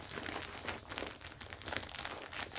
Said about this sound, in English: Sorry if there's crinkling.